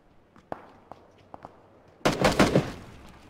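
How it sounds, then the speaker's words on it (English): Gunfire in PlayerUnknown's Battlegrounds: a few sharp, isolated cracks spaced apart at moderate distance, then a loud dense burst of rapid overlapping shots near the end. "We're getting shot from the hill."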